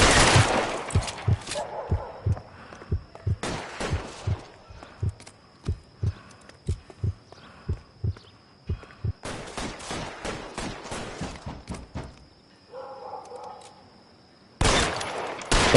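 Gunshots in L.A. Noire ring out in spaced bursts, each crack close and punchy with quick follow-up shots, separated by short lulls and a brief quieter stretch before a final loud volley.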